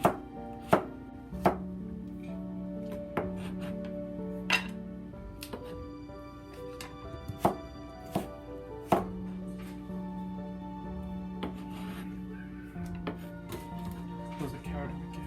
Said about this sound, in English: Okay, we cut the cauliflower. We just cut this part off.